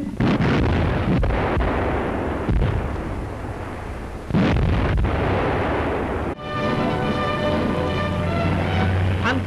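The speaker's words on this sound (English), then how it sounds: "Schwere Sturmgeschütze zerschlagen einen sowjetischen Angriff." German heavy assault guns firing artillery against a Soviet attack in wartime battle footage, repeated deep booming blasts over a continuous roar of combat, loud and close.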